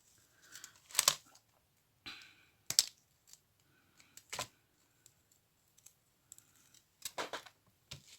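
Scissors snip through fabric scraps while small decorated envelopes are being made. A few sharp, crisp cuts are spaced irregularly over several seconds, and there are faint rustles between them. The sound is close and quiet, with no talking.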